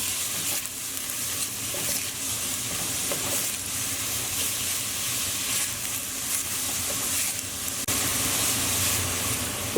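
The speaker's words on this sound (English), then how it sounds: "add in our diced onion. Now just on a medium heat, we just want to very lightly saute these until they're nice and soft" Diced onion sautés in a pan over medium heat, giving a steady, close hiss and sizzle that holds evenly from start to finish with no voices.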